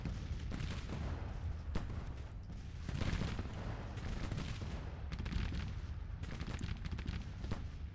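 Artillery barrages and massed musket gunfire from the Civil War strategy game Grand Tactician roll on steadily for the whole stretch, a dense rumbling battlefield din broken by sharper crackling volleys and booming reports at irregular intervals.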